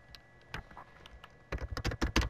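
Computer keyboard typing, a few sparse taps early then a quick burst of close, crisp keystrokes in a quiet room.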